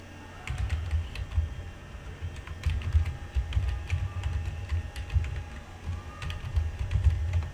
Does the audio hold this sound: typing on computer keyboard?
yes